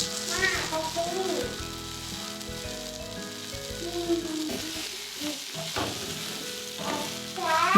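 Tomatoes, onions and garlic roast in oil in a pan for hotel-style tomato chutney, a steady close sizzle with shifting stirring and frying crackle throughout, and no talking.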